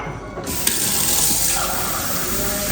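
Drinking water pouring in a home kitchen, a steady, close rushing stream that starts abruptly and continues evenly with no talking.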